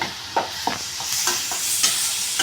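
Onions and capsicum with turmeric fry in a pan for an egg capsicum fry, a steady close sizzle broken by several sharp scraping stirs of a spoon against the pan.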